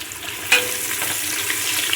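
Green chillies and onions fry together in oil for mutton biryani, a loud, close, continuous sizzle with a brief sharper crackle and stirring scrapes, no voices.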